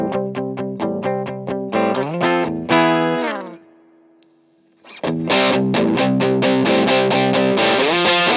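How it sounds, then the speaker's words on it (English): A Les Paul electric guitar played straight into a Cornell Romany Pro amp, chugging rhythmic chords with mild drive, a ringing chord sustaining and fading to near silence around the middle, then loud strummed chords resuming, no talk. "So the Les Paul straight into the Romany Pro sounds like this."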